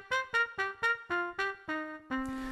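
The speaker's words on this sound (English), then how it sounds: "The straight mute is the one that you slot into the trumpet and it sounds a bit like this." A SWAM virtual trumpet played with a straight mute gives a quick run of seven or eight short, bright, nasal notes stepping downward, ending on a longer held tone, close and alone with no talking.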